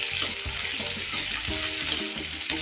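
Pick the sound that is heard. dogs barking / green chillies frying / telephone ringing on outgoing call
green chillies frying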